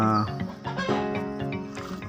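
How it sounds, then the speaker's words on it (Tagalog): Chickens cluck and murmur close by, a busy overlapping chatter of several birds with steady farmyard noise. "ipapakain natin sa ating mga manok"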